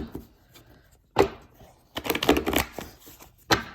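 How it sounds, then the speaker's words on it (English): Tarot cards riffle and slap together in a few short bursts, close and crisp, with pauses between shuffles. "having a hard time shuffling here. Okay, let's get these shuffled."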